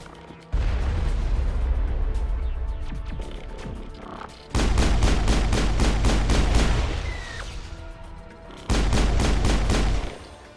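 Sustained gunfire in the sci-fi shooter Mass Effect comes in three loud bursts of rapid, evenly spaced shots, separated by short gaps of lower battle noise.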